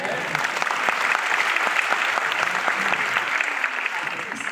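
Audience applause at an event in Kolkata, dense steady clapping from a crowd filling the room at an even level throughout.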